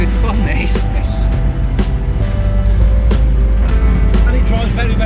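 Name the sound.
BMW Isetta bubble car engine while driving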